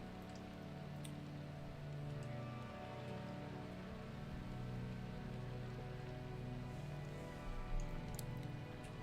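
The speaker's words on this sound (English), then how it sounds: "It's raining." Steady, even patter of rain falling in a Minecraft world, a soft continuous hiss with a low rumble beneath, unbroken for the whole stretch and with no talking.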